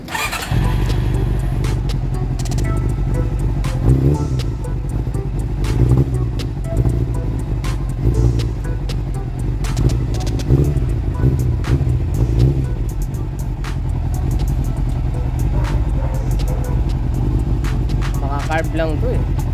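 A Honda CB400 motorcycle engine runs roughly with a carburetor problem, a loud, close, uneven idle with lumpy pulsing and occasional blips, and someone speaking over it.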